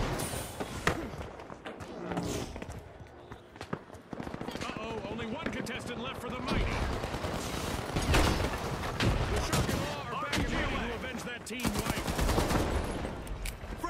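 Gunfire in The Finals video game arrives in dense, chaotic bursts and rapid volleys, loud and continuous across a busy, cluttered game soundscape.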